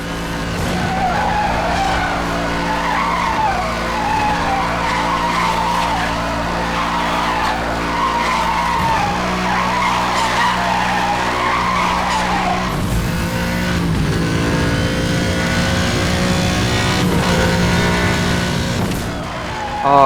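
A car in Need for Speed Hot Pursuit Remastered drifts and skids around a corner, its tires squealing steadily and loudly for the whole stretch over a droning engine, with no talking.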